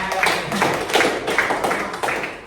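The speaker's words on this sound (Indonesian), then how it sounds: "Kelompok 1 ya, tepuk tangan." A small class claps for the first presenting group in a microteaching session, a short burst of close, irregular hand claps from a few people filling the room.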